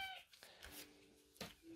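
A house cat gives a few short, faint meows, spaced apart against a quiet indoor background near an Xbox 360 Super Slim being serviced.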